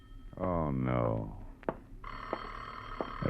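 An old telephone bell rings in a 1950 radio drama, with short repeated bursts after a spoken exclamation, crisp and fairly close in a quiet room.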